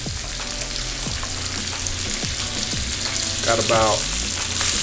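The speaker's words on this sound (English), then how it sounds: "I'm gonna add these onions in here." Onions sizzle in a pan with browned lamb for a stir fry, a steady frying hiss with scattered stirring knocks and a voice briefly talking over it.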